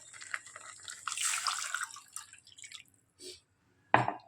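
Water splashing and trickling as it is poured out of a rinsed cooking pot, fading into a few drips, then a sharp clink near the end.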